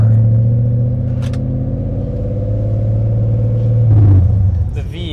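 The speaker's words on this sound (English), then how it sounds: "you can just hear that V8 rumble" BMW E39 M5 V8 idling with a deep, steady low rumble close by, swelling briefly near the end, while someone speaks over it.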